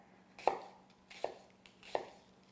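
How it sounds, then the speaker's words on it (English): A knife chops fresh white onion on a cutting board, three crisp, separate thuds spaced about a beat apart in a quiet kitchen. "I'll just cut some fresh onion up here."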